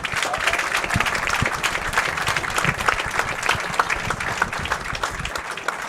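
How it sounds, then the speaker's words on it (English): A crowd at a professional bowling tournament, the PBA Parkside Lanes Open, claps steadily for the finalists, a dense, continuous round of applause with no break. "How about a nice round of applause for all of our finalists"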